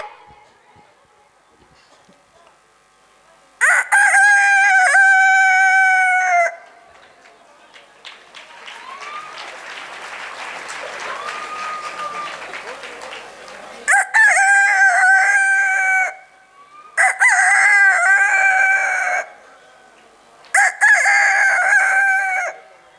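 A voice imitates a rooster crowing several times during a stage mimicry performance, loud and close, with bursts separated by pauses of quieter noise and chatter.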